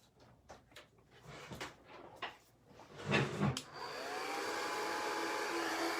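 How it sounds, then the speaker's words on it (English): A blow dryer drying craft paint on a Halloween gnome project switches on after a few clicks and handling knocks, then blows with a steady, close whirring hum to the end. "I'm gonna plug in my blow dryer over here and just blow dry it a little bit"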